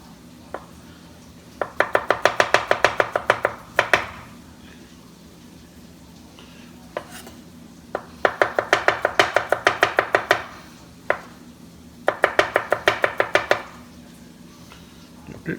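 Garlic chopped with a knife on a cutting board for a beef stew, three quick bursts of rapid, sharp, evenly spaced chops separated by pauses, with a few isolated knocks in between and no talk.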